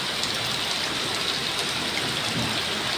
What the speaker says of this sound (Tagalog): Hindi mahangin siya, ulan lang.